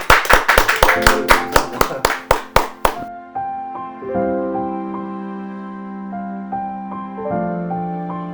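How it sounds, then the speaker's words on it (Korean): Applause welcoming a team leader at a hospital staff event starts as a dozen loud, evenly spaced claps in a steady beat, then stops abruptly as sustained instrumental music takes over. "박수로 우리 팀장님을 모시도록 하겠습니다"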